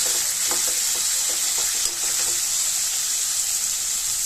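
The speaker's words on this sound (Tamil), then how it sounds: "எல்லாம் நல்லா வதங்கி வர அளவுக்கு வறுத்து விட்டுக்கலாம்" Tomatoes and onions fry together in a pan for a drumstick leaf chutney, making an even close sizzle with a cluster of light stirring taps early on and no speech.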